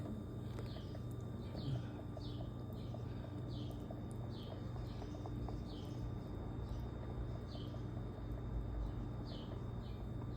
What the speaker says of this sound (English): I love hearing my birds.